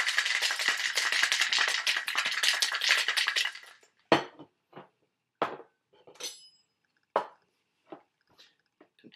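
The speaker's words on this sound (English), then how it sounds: "Take all that, shake it up," A cocktail of basil, black pepper syrup and cucumber soda shaken hard in a shaker gives several seconds of dense, steady ice rattle. After it come separate clinks and knocks, which could be the shaker being opened and set down.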